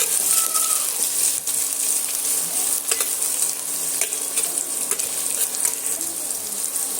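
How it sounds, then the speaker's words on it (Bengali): Chopped onions sizzle steadily in hot oil for an egg and masoor dal dish, a continuous close crackling hiss with occasional soft stirring clicks and scrapes. "পেঁয়াজটা দিয়ে আবারও আমি এখানে সুন্দর করে একটু লাল লাল করে ভেজে নেব"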